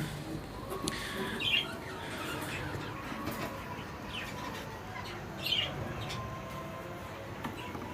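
Green ringneck parakeets in a breeding setup give a few short, sharp squawks, one loud burst early and another midway, over a steady background hiss with no talking.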